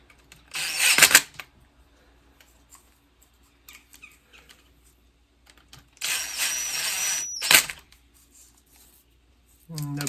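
A power tool tightens stator bolts on a 2005 Yamaha Banshee ATV, with two loud close bursts of buzzing whir separated by quiet, and the start of a third at the end.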